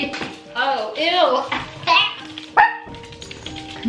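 Puppies bark and yip in high, squeaky bursts close by, mixed with excited chatter from people talking over them.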